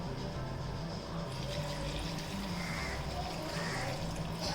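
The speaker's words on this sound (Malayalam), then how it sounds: "ഇനി കുറച്ച് അരപ്പ് കൂടുതൽ വേണമെന്നുള്ളതുകൊണ്ട് കുറച്ച് വെള്ളം കൂടെ ഒഴിക്കാം" Water poured into a pan of simmering curry paste, a quiet continuous trickle and splash over a low steady kitchen background, fairly faint throughout.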